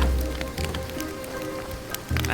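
Rain falls in a video game as a steady, dense patter and hiss that continues without a break throughout.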